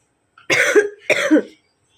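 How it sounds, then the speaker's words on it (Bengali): Two harsh coughs in quick succession, close and fairly loud, with a short gap between them and silence after. "সারাক্ষণ শুধু খালি কাশি"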